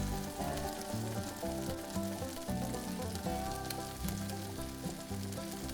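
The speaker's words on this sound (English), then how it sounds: "Add your mushrooms and continue to cook until all the moisture is out of the pan." Sliced peppers, onions and mushrooms sizzle steadily in a hot pan for a cheesesteak, a close, continuous crackling fry with no talking.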